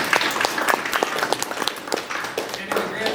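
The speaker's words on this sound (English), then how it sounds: "So that deserves a round of applause." A small audience gives a short round of applause, scattered claps from several people at close range that fade out over a few seconds.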